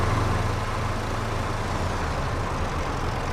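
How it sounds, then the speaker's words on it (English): An engine on a manual-gearbox vehicle parked at a farm runs with a steady rough rumble and broadband roar, held at constant revs throughout. "manual gearbox, give it some revs"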